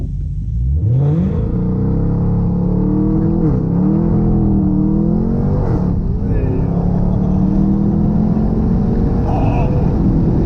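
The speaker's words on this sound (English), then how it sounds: "We're in track mode in the Hellcat." A Hellcat accelerates hard in track mode, its engine roar climbing steeply in pitch and dipping briefly at gear changes before pulling upward again, loud and heard from inside the car.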